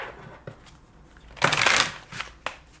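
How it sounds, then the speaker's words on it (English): Riffle of a neon tarot deck being shuffled and cut, a short burst of papery flutter in the middle with a few soft card taps before and after, close and fairly quiet. "Let's cut this deck."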